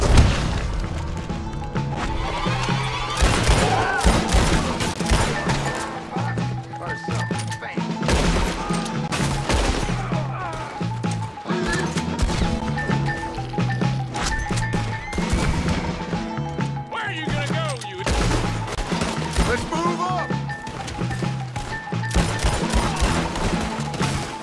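A Red Dead Redemption 2 shootout, with dense, continuous gunfire, crashes and impacts over a driving music score throughout.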